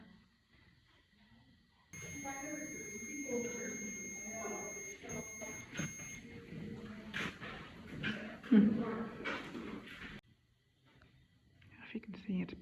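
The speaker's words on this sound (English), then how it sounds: "Oh, it's beeping." A ghost-hunting pod device gives electronic beeps and a thin buzzing tone in a dark room, while people whisper and talk quietly over it.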